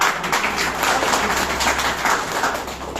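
A crowd at a product marketing gathering claps steadily throughout, in a dense, even wash of applause at moderate distance with no talking over it.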